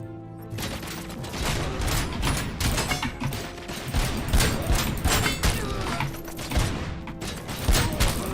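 Mechanical weapon reload in RoboCop: Rogue City, a series of clicks, ratchets and metallic clunks over dense game sound with occasional thuds, moderately loud and close.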